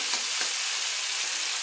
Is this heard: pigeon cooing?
no